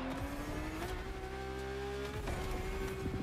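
A car drifting in The Crew Motorfest video game, its engine revving high and steady with a sustained tire squeal sliding in pitch, loud and close across the short stretch.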